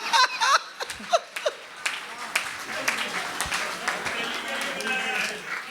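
An audience at a Hindi comedy poetry show (kavi sammelan) breaks into steady applause after a few seconds of someone talking. The clapping builds into a sustained wash that fills the rest of the moment.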